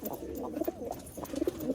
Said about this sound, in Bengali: কাগজি পায়রা